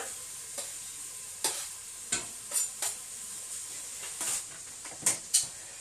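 Chopped garlic, red chilli and onion sizzling in a pan for a curry, a continuous hiss punctuated by several scraping stirs and clinks of the utensil against the pan, no talking.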